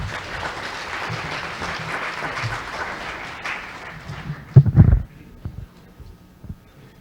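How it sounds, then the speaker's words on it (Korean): An audience at the opening ceremony of the Korean Institute of Electrical Engineers summer conference claps to welcome an invited lecturer. The even round of applause lasts about four seconds, then stops abruptly, leaving a few thumps and near quiet. "큰 박수로 맞이하여 주시기 바랍니다"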